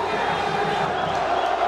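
A stadium crowd roars in a sustained, agitated din during a brawl at a Joinville versus Avaí football match in the 2024 Catarinense championship, with a commentator's voice over the noise.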